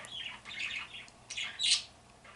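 Pet birds squawking indoors in a few short bursts, bright chattering calls rising to a louder, sharper squawk near the end, fairly close and with no talking.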